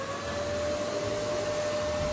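A household vacuum cleaner runs at home, loud and close, as an unbroken steady roar with a high whine held throughout.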